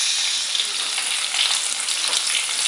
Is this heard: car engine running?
no